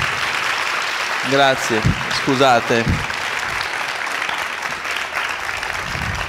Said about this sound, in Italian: Vi chiedo un grande applauso